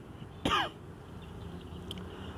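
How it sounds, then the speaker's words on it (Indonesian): A single short, sharp cough breaks in once, near and loud, against a quiet room with faint background hum. "mohon maaf agak batuk sedikit."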